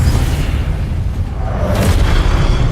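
A Confringo fire spell blast in Hogwarts Legacy makes a deep, sustained booming rumble. It stays loud and steady throughout, with a faint burst of brighter crackle late in the blast.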